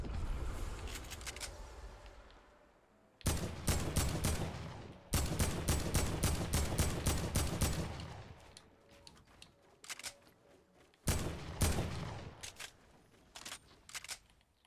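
Gunfire in an online battle royale shooter, heard as several bursts of rapid automatic shots in close succession, loud and sharp, separated by quieter gaps with scattered single pops.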